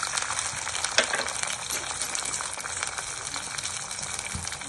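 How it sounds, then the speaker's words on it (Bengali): Fried onions sizzle steadily after half a cup of water is poured in, a dense close hiss filling the whole clip with a brief sharper burst near the start and no voices. "পেঁয়াজ এরকম ভাজা হয়ে গেলে আমি হাফ কাপ পানি দিয়ে"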